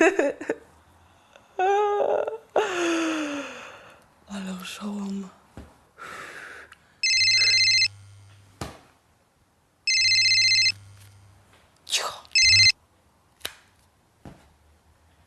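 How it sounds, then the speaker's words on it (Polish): A telephone rings in two loud electronic bursts, each lasting about a second, separated by a pause, with voices and gasps around them. "Czemu nie odbierasz telefonu?"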